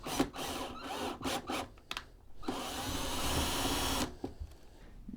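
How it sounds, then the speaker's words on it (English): A power drill bores a pilot hole into the back of a wooden headboard, giving a harsh grinding whir in short bursts and then one sustained run before it stops. "we're going to take and make the same kind of pilot hole into the back of the headboard"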